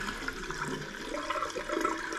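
Hot water running from a bathroom basin tap on a combi boiler system with low flow, a steady close rushing splash that continues evenly throughout.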